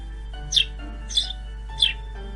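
A sparrow gives three sharp, close chirps spaced evenly about half a second apart, heard over a steady low hum and faint soft musical tones.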